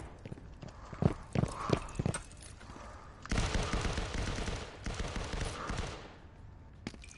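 Video game gunfire crackles in sharp bursts, a few separate shots early on followed by a sustained rattling volley of several seconds, fairly close and with no voices over it.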